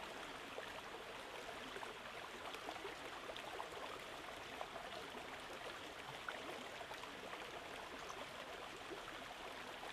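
A forest stream flows past, a continuous soft babbling and trickling wash that stays even and faint throughout, with no voices.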